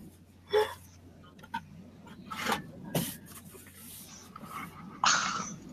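A puppy growls softly and whimpers in short bursts while playing, close by and fairly quiet, with rustling and rubbing sounds between the vocalizations.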